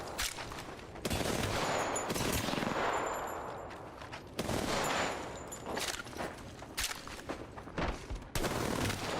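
Automatic weapons fire in the battle royale game Apex Legends comes in loud sustained bursts and rapid volleys, broken by brief pauses and scattered single shots, up close and without speech.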